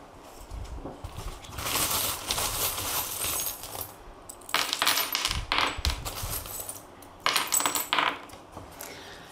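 Divination charms are shaken and cast, giving three bouts of jingling, clinking metal rattles separated by short pauses. They are fairly close and moderately loud, with no voices.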